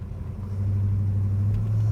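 A 1967 Pontiac GTO drives along, its engine settling into a loud, steady low drone after a brief softer start, the hum holding constant in the cabin.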